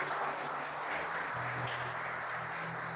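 Congregation applauding in a church during a Portuguese-language sermon, a steady wash of many hands clapping at moderate distance, sustained evenly throughout with a low hum beneath.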